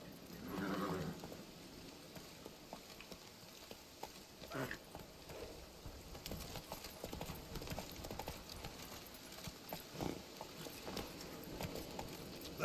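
Horse hooves clip-clop in a steady trotting rhythm as a rider travels in The Witcher 3, with a brief whinny near the start, all fairly faint.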